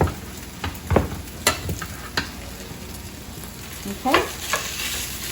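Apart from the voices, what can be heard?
rice frying in butter while being stirred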